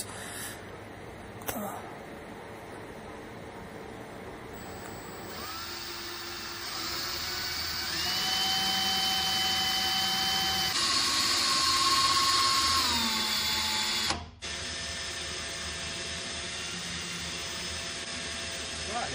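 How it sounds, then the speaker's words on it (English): A small drill attachment on a lathe runs for a long stretch with a steady high whine that changes pitch as it speeds up and slows, close by. "let's put the drill on and see how it works"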